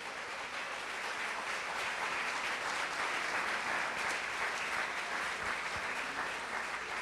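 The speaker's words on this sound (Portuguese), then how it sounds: "Dê uma salva de palmas ao Senhor." A church congregation claps together in steady, dense applause, loud and sustained throughout with no pauses.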